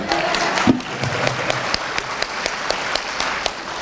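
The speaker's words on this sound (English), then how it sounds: "Give yourselves a round of applause, guys" Applause from a comic convention audience after a Game of Thrones actor's panel, steady clapping from many hands with a few sharper claps standing out, moderately loud and continuous throughout.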